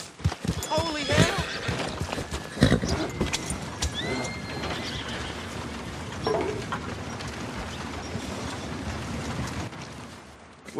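Horse hooves clip-clopping in Red Dead Redemption, a steady rhythmic patter heard mostly in the opening seconds over game sound and voices, then fading into a continuous ambient background.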